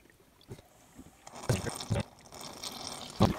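Coolant poured from a clear one-gallon container into the 3800 Series 1 engine of a 1993 Chevy Lumina APV, heard as soft gurgles and irregular splashy glugs, fairly quiet and close, with no talking.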